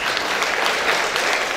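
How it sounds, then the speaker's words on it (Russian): Close, dense applause from a studio audience welcoming a contestant. Steady clapping fills the short stretch with no speech over it. "Встречайте аплодисментами"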